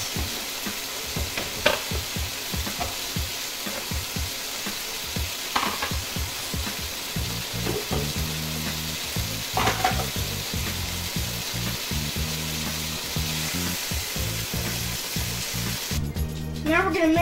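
Cajun shrimp fried rice sizzles loudly in a pan while being stirred, a steady frying hiss broken by repeated scraping strokes of a utensil against the pan, continuous and close throughout.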